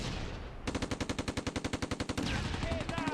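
An MG42 machine gun fires in the Close Combat II war game during a battle near a church at Veghel, loud rapid bursts in an even rhythm of about twenty shots, then rumbling battle noise.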